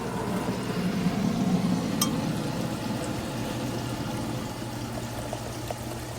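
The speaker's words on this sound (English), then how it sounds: "So our water is going right here" Water, 3.5 cups, pours steadily into a soup pot, a continuous soft splashing rush close by, with no talking.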